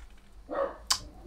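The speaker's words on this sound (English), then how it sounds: "Dog's barking." A dog barks once, a single short bark at moderate distance, followed by a faint sharp click, in an otherwise quiet room.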